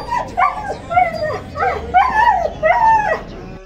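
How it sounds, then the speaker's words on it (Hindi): Several dogs bark, yip and whine in close, loud bursts, roughly one every half second to second with a short pause in between, the sound bending and wavering almost like singing. "इसके बावजूद भी भौंक रहे हैं, शर्म करो यार"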